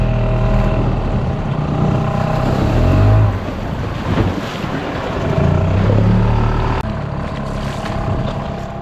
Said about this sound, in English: then deep enough for the outboard motor.